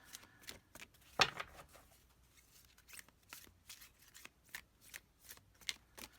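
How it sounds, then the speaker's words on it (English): Tarot cards being shuffled by hand, a series of quick riffling and tapping bursts in an irregular rhythm, close and quiet. "whenever I decide that it's time to stop shuffling, I shuffle 3 more times"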